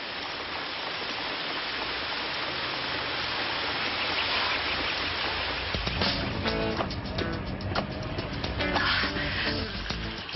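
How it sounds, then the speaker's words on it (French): Steady rain hisses throughout, a broad wash of falling water, with some clattering and movement sounds joining in during the second half. "Il y a même la pluie qui me poursuit"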